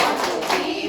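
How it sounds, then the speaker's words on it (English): A classroom audience claps together in a short, dense burst of hand claps, loud and close, lasting under a second. "let's have the overwhelming clap"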